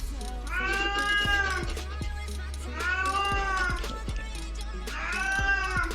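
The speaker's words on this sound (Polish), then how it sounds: "Tutaj mój kot oczywiście już dokazuje, bo mnie cały dzień nie było." A cat meows three times, each a long, wavering, plaintive cry, close by over a steady low hum.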